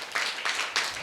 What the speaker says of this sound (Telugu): ఫీమేల్ మాత్రం చప్పట్లు కొట్టండి.